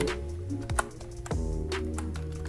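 Keystrokes on a computer keyboard while code is typed, a quick run of crisp clicks over a steady background hum, with a couple of louder, sharper strikes.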